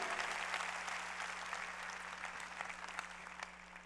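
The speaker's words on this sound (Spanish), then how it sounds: "dele un aplauso al Señor" A church congregation claps together in brief, fairly faint applause that swells and then gradually tapers off over a few seconds.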